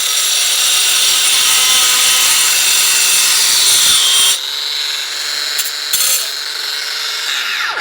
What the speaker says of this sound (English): The next one is going to be using a grinder.